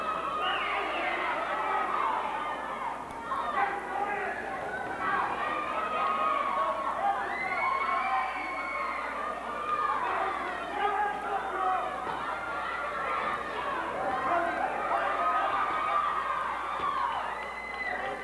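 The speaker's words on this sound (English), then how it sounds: "The crowd is really getting into this one." Spectators at an amateur boxing match in Albuquerque keep up a constant roar of cheering, shouts and whoops, with some voices rising above the steady crowd din.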